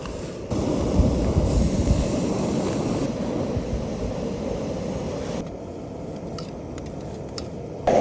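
Strong wind buffets and roars in gusts at a tent campsite, loud at first, then easing slightly before surging again at the end.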